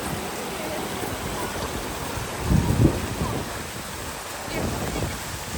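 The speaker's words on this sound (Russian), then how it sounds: "Здесь начинается этот проход под водопадом." Continuous roar of falling water on a walkway passing behind an Icelandic waterfall, a steady broadband rush with wind buffeting the microphone and a couple of louder surges.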